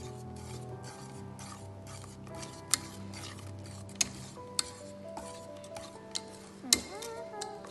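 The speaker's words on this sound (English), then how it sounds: "so I'm going to add this mascarpone cheese. We have to mix it well." Mascarpone cheese is mixed in a bowl for a no-bake tiramisu cake, with a soft continuous scraping and rubbing punctuated by several sharp clinks of a utensil against the bowl, close and fairly quiet.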